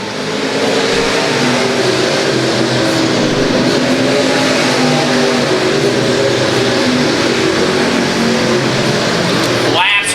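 Race cars at Los Angeles Raceway roar past in a continuous loud engine drone, revs rising and falling as the pack circles, with a track announcer calling positions over the noise.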